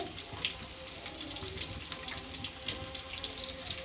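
Two chopped onions going into hot oil in a pan, cooked with chillies for rava avarekalu upma, giving a steady, close, broadband hiss and crackle that runs without pause and with no talk over it.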